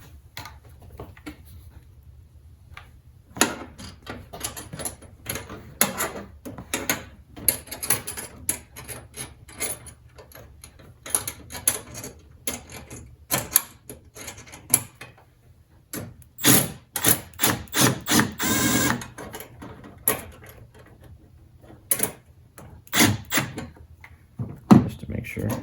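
A driver tightens the clamps on an Injen cold air intake in a 2023 Dodge Durango R/T, giving irregular close clicks, ratcheting and rattles, with busier metallic bursts in the second half.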